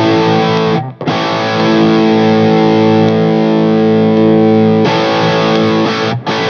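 Heavily distorted electric guitar played through a RedSeven amp in boosted solo mode, with loud sustained chords ringing out, a brief cut near the start and another gap just before the end.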